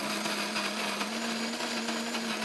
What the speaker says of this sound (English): Let's grind the coffee, and let's turn on the espresso machine.